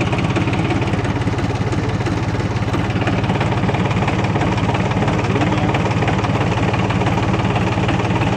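A cold Dongfeng 244 tractor engine idles throughout, a loud, close, steady diesel chug with rhythmic knocking that does not vary in level.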